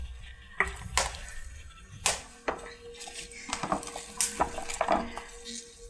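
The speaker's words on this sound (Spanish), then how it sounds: "Lo meneamos con un meneador." A wooden stirrer works through mustard greens cooked with garlic and onion in a metal pot, producing several sharp knocks and scraping clatters against the pot, spaced irregularly and close by.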